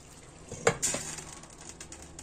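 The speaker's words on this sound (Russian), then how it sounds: "Медленно тут томится." Food frying in an old frying pan on low heat gives a soft, steady sizzle, with a couple of sharp metallic clinks from a utensil against the pan near the start.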